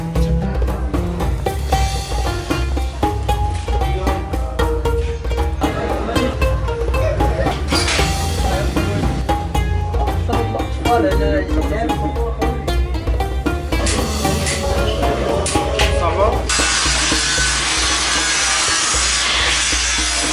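Welding and metalworking in a crowded market street in Marrakech, Morocco: a continuous, busy grinding and scraping texture with rapid clicks and taps carries on throughout the street noise.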